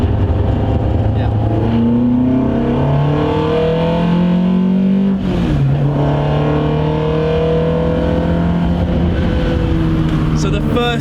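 An Alfaholics GTA-R290 engine climbing Stelvio Pass, heard loud and close from inside the car as it revs hard through the gears, with a brief dip at a shift midway before pulling strongly again.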